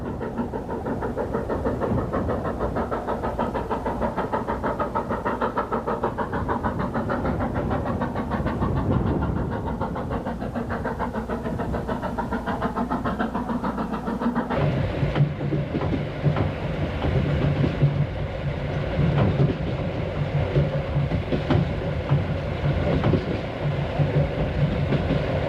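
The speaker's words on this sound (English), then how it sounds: "In this way, the train gradually crosses the mountains." A passenger train runs through mountains on the Silk Road in China, its steady rumble and rhythmic clatter of wheels on rails loud and continuous throughout, shifting to a deeper, heavier tone partway through.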